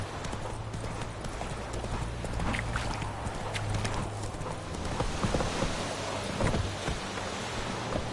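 Roach the horse trots through rain in The Witcher 3, with a steady stream of clip-clopping hooves over a constant hiss of rainfall and low rumbling, fairly close.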